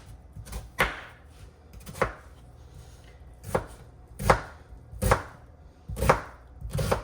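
A knife chopping onion finely on a cutting board, with close, crisp chops landing in small irregular clusters of two and three, separated by short pauses.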